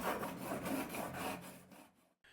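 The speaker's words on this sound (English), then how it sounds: "I decided to give my planer blade a quick sharpen before I start." A planer blade being sharpened in a woodworking shop: close, rhythmic abrasive rubbing strokes, about eight back-and-forth passes, ending in a brief pause and a soft scrape.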